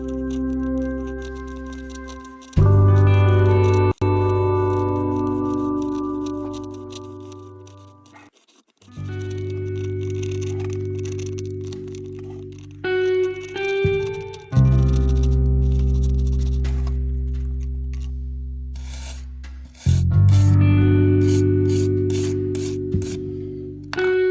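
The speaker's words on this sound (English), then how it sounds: "I'm going to begin to saw with something with a little more aggressive a bite, and that is just a little bit of hacksaw here." Hacksaw cutting through the steel rail head of a model railway turnout frog, loud close rasping strokes in long sustained passes separated by short pauses, with quick choppier strokes toward the end.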